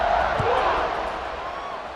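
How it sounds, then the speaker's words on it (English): Crowd noise in EA Sports College Football 26, a steady murmuring roar of a stadium after a touchdown, easing slightly toward the end with faint voices over it. "this crowd is buzzing after that last score"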